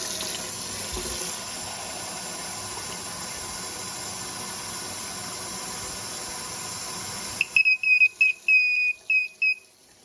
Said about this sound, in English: So say this is getting filled with coffee.